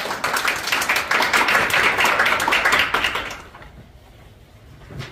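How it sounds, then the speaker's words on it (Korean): Dense audience applause at a 2023 policy forum on education cooperation fills the first three and a half seconds with steady clapping, then stops abruptly, leaving a quiet room. "큰 박수로 맞이해주시기 바랍니다."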